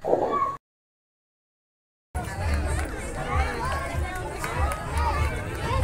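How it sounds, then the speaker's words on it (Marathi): A crowd of visitors at Hussain Sagar lake in Hyderabad, a steady outdoor babble of many distant voices and footsteps following a brief cut to silence, moderately faint. "खूप गर्दी असते इथं."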